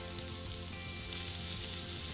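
Onion, dried chili and cumin roast in a hot pan with a continuous, even sizzle and crackle throughout, fairly quiet and without any voices.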